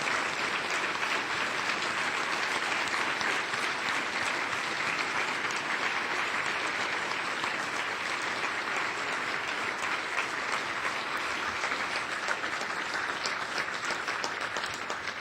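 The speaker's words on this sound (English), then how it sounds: "Could we all rise and applaud them for their achievements?" A standing audience at a Rotary Club luncheon applauds student award winners, producing a long, even roar of many hands clapping that holds steady throughout, moderately distant and with no talk.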